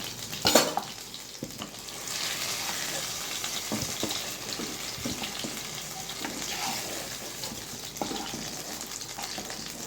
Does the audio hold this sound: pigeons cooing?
no